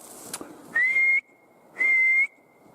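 Someone whistles two sustained, slightly rising notes separated by a short pause, clear and fairly close against quiet forest background.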